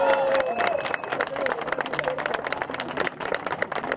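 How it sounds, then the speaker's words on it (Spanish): A crowd at a political rally claps and applauds for about four seconds. The clapping is dense, with crowd noise and voices mixed in. "Vamos a darle un aplauso"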